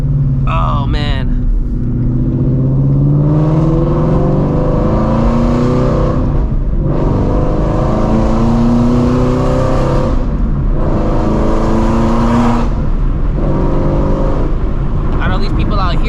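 A Shelby GT350 V8 revs loudly in traffic on a hot day, with three long sustained pulls of throttle separated by brief dips. Someone talks over the engine.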